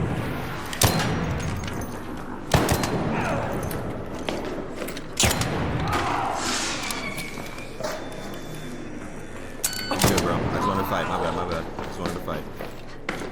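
Anvil weapon gunfire in ARC Raiders comes as several heavy, sharp shots spaced a few seconds apart, each a loud crack over steady game noise and movement, with someone talking throughout.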